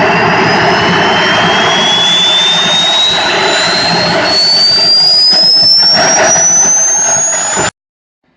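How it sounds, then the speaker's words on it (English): A Swiwin model jet turbine starting up with a big fire, a loud continuous roar under a thin whine that climbs steadily in pitch for about eight seconds before cutting off abruptly. "When you start in your turbine and meet a big fire during startup, how can you do?"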